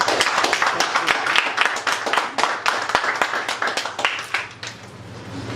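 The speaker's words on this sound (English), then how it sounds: "Give him a round of applause." A modest room of people at a Toastmasters club meeting gives a round of applause, with sharp, individually audible hand claps in an uneven, steady patter for several seconds before it thins out.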